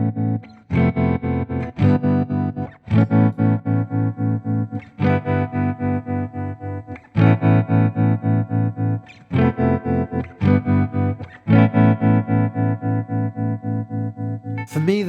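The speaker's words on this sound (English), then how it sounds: "I'll compare it to the tremolo on my Deluxe Reverb, see if you can hear the similarity in the sound" An electric guitar plays through the tremolo of a Fender Deluxe Reverb amp, compared with a Boss TR-2 pedal. Sustained chords are chopped into a steady, rapid volume pulse, with fresh strums landing every second or two over about fifteen seconds.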